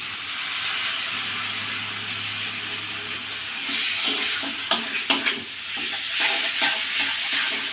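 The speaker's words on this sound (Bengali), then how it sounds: "এবার আমি যে মোচাটা বেটে রেখেছিলাম সেদ্ধ মোচা সেটা এবার দিয়ে দেবেন" Boiled, ground banana flower paste frying in oil with fried potatoes while being stirred: a steady sizzle with several sharp utensil scrapes and knocks against the pan partway through, close up, no talk.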